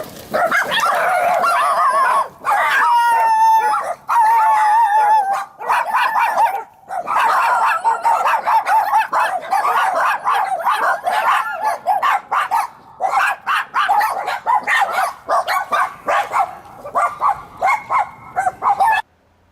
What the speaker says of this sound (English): I encountered a pack of wild dogs.